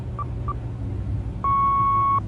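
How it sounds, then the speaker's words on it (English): An answering machine tone: two short faint beeps, then a long steady loud beep lasting under a second, over a low background hum. "kindly leave your message at the tone"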